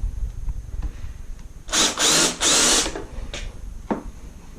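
A power drill countersinks a screw hole in wood, cutting in two or three close, loud grinding bursts followed by a couple of brief, fainter touches. The workshop is otherwise quiet.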